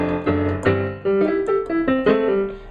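Piano fill from a song is played quickly on a piano as a run of distinct, loud, close notes and chords with no talking.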